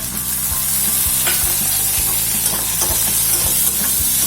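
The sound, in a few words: ginger and garlic frying with onion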